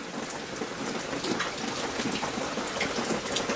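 Rain falls steadily over a backyard campsite in spring, a dense, even patter of drops close by with a soft hiss, continuous and without voices.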